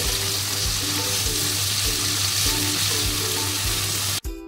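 Spice paste fries in oil for Bengali dhokar dalna as water is added. A loud, continuous close sizzle carries rhythmic stirring scrapes, then stops abruptly just before the end.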